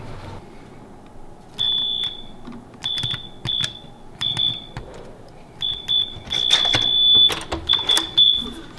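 A doorbell held down sounds like a fire alarm: a shrill electronic tone beeps in repeated bursts, some short and some long, over room noise and a few knocks and clatters.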